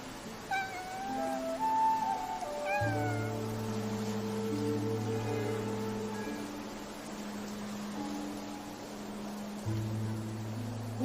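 A cat in the video game Infinity Nikki gives a few short, rising meows early on. Soft, sustained game music plays beneath the meows and continues after they fade.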